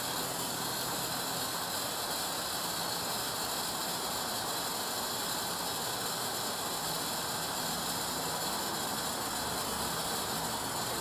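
Propane flowing from a large tank into a small upside-down cylinder during a refill: a steady, loud hiss with a faint mechanical rattle, continuous and unchanging, with no talking.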